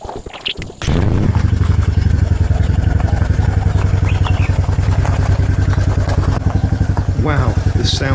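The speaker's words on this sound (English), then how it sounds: "Yes, it really does sound like a Harley." Royal Enfield motorcycle engine starting and then running close at a loud, steady thumping idle with pronounced rhythmic pulses; a voice talks briefly over it.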